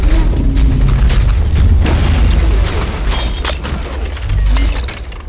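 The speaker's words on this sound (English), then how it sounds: "The three basic layers are the literal debris, explosions, the things that we see happening around them." A cafe setting in the film Inception breaks apart, with loud booms, shattering glass and crashing debris bursting repeatedly around the listener, one blast after another in dense, heavy layers.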